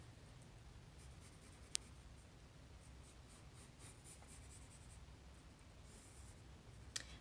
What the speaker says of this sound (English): I'm trying to draw a rectangle